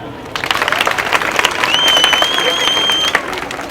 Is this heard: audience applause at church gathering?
yes